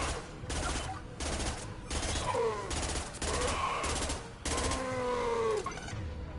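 Weapon fire from the Mass Effect 2 video game during a Citadel loyalty mission, a sustained rattle of rapid shots with brief gaps, mixed with whining effects and faint background sounds.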